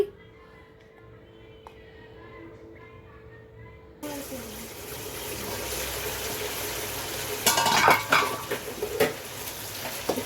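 Onion masala being fried and stirred in a pan: after a few quiet seconds a strong, steady sizzle starts, rising toward the middle, with occasional metallic clinks and scrapes of the utensil.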